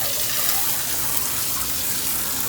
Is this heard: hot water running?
yes